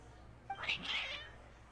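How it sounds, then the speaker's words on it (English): Agitated pet cats in Genshin Impact give a short burst of meowing, a single close, strained yowl rising over quiet game ambience, brief and fading quickly. "Your cats seem pretty worked up."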